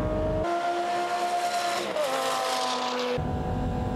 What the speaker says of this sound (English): the V10 engine picks up without any stress, pulling the car to extreme speeds in no time